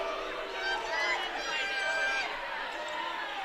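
A crowd at an NCAA volleyball match between Western Washington and Cal State San Bernardino reacts to a referee's call, a sustained mass of voices and murmuring that swells briefly and holds steady.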